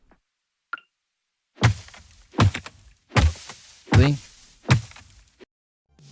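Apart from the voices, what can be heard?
low thump of failed harvest action in Coral Island video game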